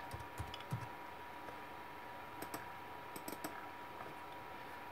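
A computer keyboard gives faint, sparse key taps in small clusters over a low steady hum, with no speech.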